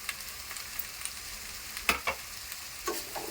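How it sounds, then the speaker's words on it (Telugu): Onions frying in a pan with turmeric, mint and coriander for a Telugu boti curry, a soft steady sizzle with a few sharp crackles and the scrape of stirring, close and fairly quiet. "ఈ ఆనియన్స్ ఫ్రై అవుతున్నాయి కదండి"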